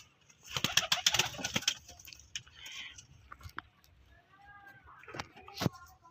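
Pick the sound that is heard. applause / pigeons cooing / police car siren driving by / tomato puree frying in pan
pigeons cooing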